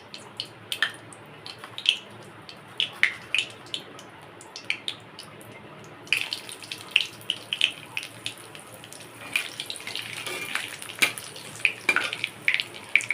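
Cumin seeds hit hot oil in a home kitchen pan for a simple curry, giving a light crackling sizzle with scattered sharp pops that grows busier and denser halfway through, close and fairly quiet with no talking.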